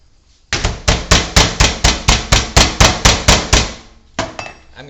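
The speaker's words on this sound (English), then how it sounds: "And we're going to hammer it down" A meat hammer pounds a chicken breast flat, about fourteen loud, evenly spaced close blows in a fast steady rhythm, then a pause and two more strikes.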